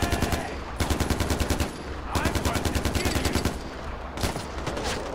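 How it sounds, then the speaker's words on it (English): Sustained automatic gunfire in the Far Cry 4 video game, rapid bursts of closely spaced shots repeating in several loud volleys with short gaps between them. "they are shooting the animal"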